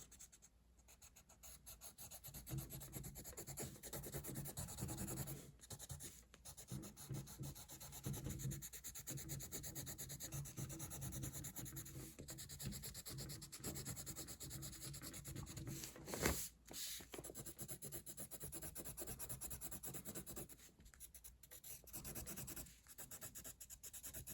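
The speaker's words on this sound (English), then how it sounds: "I use a colorless blender because if I use the white, it'll get light again" A colorless blender pencil rubs steadily over paper while shading a mandarin orange drawing, a close, continuous scratchy friction with brief pauses and no talking.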